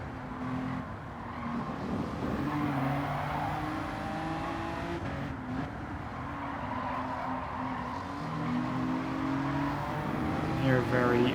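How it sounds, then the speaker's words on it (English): Car exhaust snarling in the racing game Gran Turismo 7, a harsh, aggressive engine note with steady revving and gear changes, loud and continuous with a voice talking over it. "Hear a very angry sounding exhaust."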